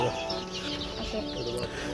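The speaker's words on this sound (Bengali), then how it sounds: "এই দেখতেছেন এগুলো আমার লোকাল মুরগি" Local desi chickens, a flock suffering from illness, clucking and murmuring nearby in a continuous low chatter with no talking over it.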